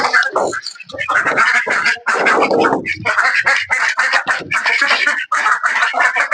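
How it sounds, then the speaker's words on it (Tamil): Loud, constant quacking and squawking from a crowd of native country ducks nearby on a farm, dense and overlapping with hardly a pause. "வாத்து சவுண்டு கேக்குதுன்னு நினைக்கிறேன்"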